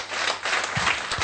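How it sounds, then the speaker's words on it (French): Applause from a church congregation during a French-language worship service, a steady wash of clapping hands that fills the short moment without a break. "Applaudissez le Seigneur Jésus"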